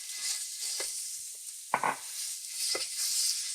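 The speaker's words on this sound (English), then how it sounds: "Then we're gonna start with browning off our pork." Ground pork browns in about two tablespoons of hot oil in a pan, giving a soft, steady sizzle broken by a few sharper scrapes and pops of stirring.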